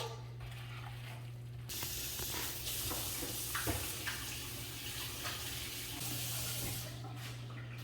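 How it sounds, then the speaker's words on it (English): Hands washed under a running kitchen tap while making mini meatloaves with egg, a steady rush of water starting after a quiet moment and running for several seconds before cutting off. "Wash your hands off."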